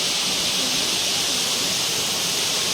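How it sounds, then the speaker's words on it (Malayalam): Manpilavu waterfall at Vayyattupuzha in Pathanamthitta district, Kerala, gives a steady, dense rushing roar of falling water, unbroken and close. "നമ്മുടെ മൺപിലാവ് വെള്ളച്ചാട്ടം സ്ഥിതി ചെയ്യുന്നത് പത്തനംതിട്ട ജില്ലയിലാണ് കേട്ടോ"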